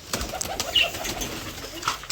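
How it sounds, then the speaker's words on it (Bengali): Pigeons coo softly inside a pigeon loft in a few low, throaty murmurs. Light rustles and one short high chirp sit over a quiet background. "পায়রাগুলো খুলে দেবো প্রথমে"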